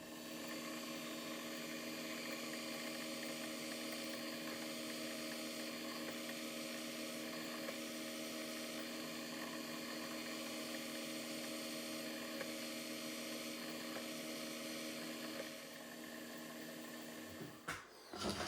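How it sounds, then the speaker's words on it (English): A continuous, steady high-pitched whine of an electric drill boring into a metal engine cylinder head, running nonstop at close range before stopping abruptly near the end. "So I have to clear the drill often in this."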